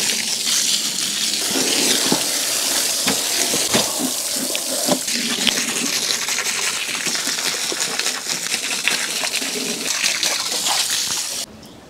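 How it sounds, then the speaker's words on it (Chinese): Beef hide being rinsed under a running tap, steady splashing water filling and spattering in a sink for the full length, with occasional knocks as the hide shifts; no talking. "现在呢我先呢用水把它冲洗一下"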